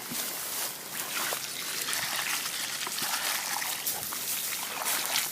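Root stimulator solution is poured onto the soil around a newly planted tree, a steady close trickling and splashing of liquid that runs for several seconds without talk.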